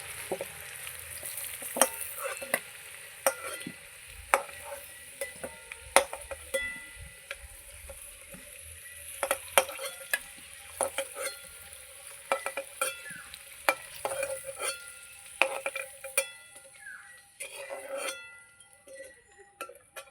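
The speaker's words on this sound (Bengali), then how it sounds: "মাংসের আলু আমি লাল লাল করে ভেজে নিয়েছি এবার তুলে নেবো" Potatoes sizzle in hot oil in a wok over a wood fire while a spatula repeatedly clinks and scrapes the wok, sharp metallic taps scattered throughout.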